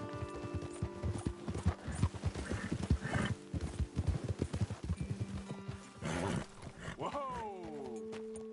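Steady clip-clop of horse hooves trotting close by in Red Dead Redemption 2, with a horse neighing and snorting partway through, over a low background hum.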